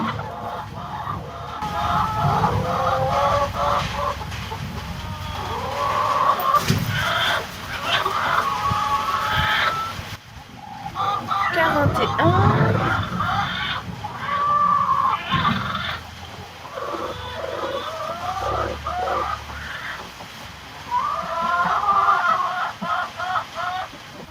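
Hens clucking steadily in a henhouse, a busy chorus of overlapping clucks and calls close by, with occasional louder squawks and a brief crow-like call, no talking.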